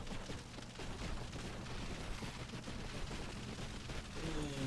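Artillery fire in the video game Buggos II during a wave-survival battle, a dense continuous barrage of overlapping booms and rapid gunfire rumbling steadily throughout.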